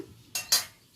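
A metal kadai is set down on a stove with two close, bright clanks in quick succession.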